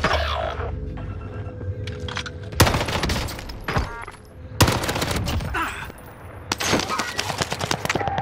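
Gunfire in the video game Caldera, loud bursts of automatic fire that come in waves, with dense rattling volleys and brief pauses between them, close and harsh.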